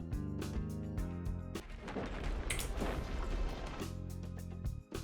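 A heavy, rumbling crash from the Riven boss moving in Destiny 2 swells up and roars for a couple of seconds over steady electronic game music, loud and close.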